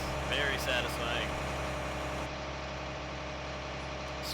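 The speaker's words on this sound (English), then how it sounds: "This tractor's a little loud though." Tractor engine idling in the farming game Farming Simulator 19, a constant low droning hum with steady vibration throughout, a voice faintly present early on.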